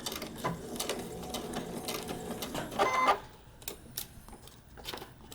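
Sewing machine stitching a paper-pieced quilt block, a steady mechanical whir of rapid stitches running for about three seconds, then stopping, followed by quieter clicks and handling sounds.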